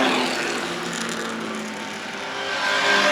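An Austin-Healey 104 four-cylinder sports car racing past at a vintage sports car race, a brief loud engine roar sweeping by close and swelling again at the end.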